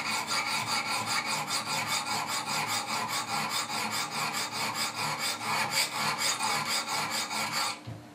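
A Benchmade 940 knife blade is stroked on a Wicked Edge guided sharpener, producing steady rhythmic rasping passes, close and even, that stop just before the end, with no talk.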